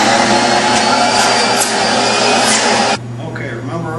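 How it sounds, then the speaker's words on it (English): Carpet extractor vacuum motor running loud and close, a steady broadband roar that drops to a lower, quieter whine near the end as the load changes. "All you got to do is turn your vacuum motor on."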